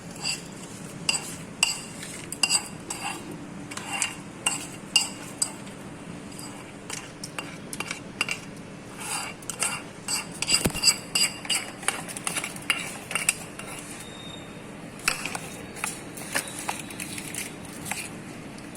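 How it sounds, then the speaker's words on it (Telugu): A spoon stirs a fried seasoning of spices into a mashed dish, giving repeated scraping and clinking strokes against the bowl, steady and close, with no one talking. "సో ఈ తాలింపు ఇందులో వేసి కలుపుకుందామండి."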